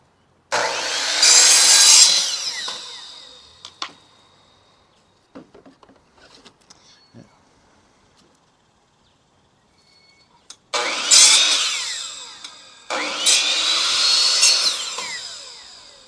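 A saw cutting laminate flooring planks in three loud, rasping bursts, each lasting a second or two, separated by quieter gaps with faint clicks and knocks of handling.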